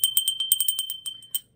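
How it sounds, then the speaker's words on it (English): A small bird-shaped bell rung by hand, giving a rapid run of bright, high tinkling strikes close by that quickly fade out. "it's a bird, it's a bell, it's beautiful"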